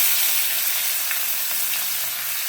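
Onion hits hot oil in a pan after fish has been fried for a fish curry, giving a loud, steady, dense sizzle and frying hiss with no voices.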